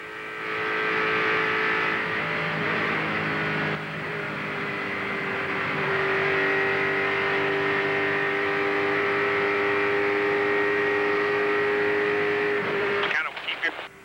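NASCAR Cup Series stock cars race at Talladega Superspeedway in 2003, heard as a loud, sustained engine drone that rises steadily and holds a high pitch, then breaks off near the end, with radio chatter faintly underneath.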